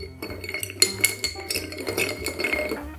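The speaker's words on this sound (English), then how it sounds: "Grab the bar spoon, give this a stir." Bar spoon stirring a Rittenhouse bottled-in-bond rye cocktail over one big ice cube in a mixing glass, giving a steady run of light metallic clinks and ice knocks, close and alone.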